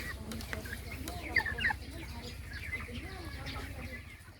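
Chickens on a broiler farm cluck in scattered short calls over a steady low background hum, at moderate distance, with faint voices mixed in.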